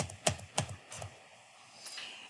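A computer keyboard gives three or four sharp, close key clicks in quick succession, including the Enter key, then a quiet pause with a faint tap near the end.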